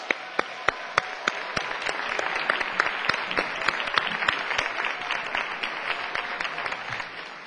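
A neighborhood meeting crowd claps for the 2010 poster contest finalists, dense continuous applause with crisp individual hand claps standing out, steady and sustained throughout, no talking.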